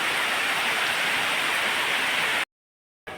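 Steady rain pours down in a dense, even hiss at close range, then cuts to silence for a moment before resuming.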